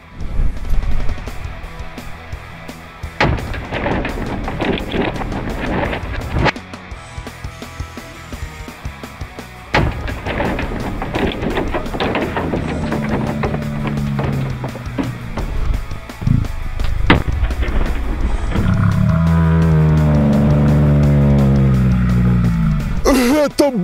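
Loud, repeated bangs from powerful firecrackers set off inside a moped scooter, with sharp blasts spaced across the stretch and a crackling, roaring burst near the end, mixed with voices reacting.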